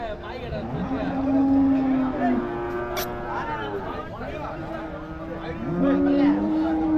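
Cattle at a livestock market in Uthangarai, with long, loud moos rising over a murmur of crowd chatter and someone talking nearby, the bellows returning a few seconds apart.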